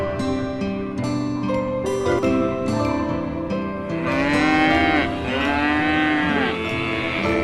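Cattle moo repeatedly in loud, drawn-out calls with rising and falling pitch, several overlapping lows close by, set in a desert grazing scene.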